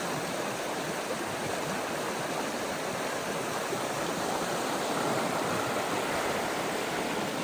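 Ptarmigan Creek near Seward, Alaska, a salmon creek freed of snow and ice, rushes along in a steady broadband wash of flowing water, close and constant with no speech over it.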